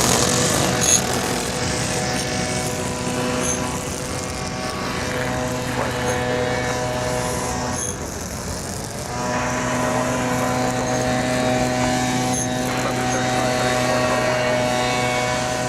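Aircraft noise at DFW Airport during the morning rush, a steady loud drone of engines and propellers with layered tonal hums that swell and ease as planes taxi and approach the gate, continuous for the whole stretch.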